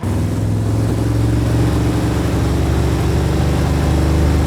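A Pontiac Firebird V8 roars loud and steady on a dyno, held under load with a rough, rumbling engine note that stays continuous and close throughout, with no talk.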